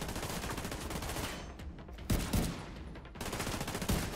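Bursts of rapid automatic gunfire in the Division 2 video game, loud and close, firing in sustained volleys with a brief pause before resuming.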